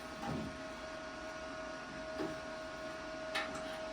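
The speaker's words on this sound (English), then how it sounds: "Keith is welding the lower front link bars on the rear axle" Keith welds the lower front link bars on an upside-down rear axle for a custom Honda rat rod frame: a steady, close crackling hiss runs throughout over a constant electrical hum, with a few brief louder pops.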